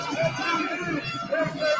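Protesters gather outside a hotel, their voices merging into a close babble of crowd chatter with shouting that rises and falls, and one voice stands out above the rest.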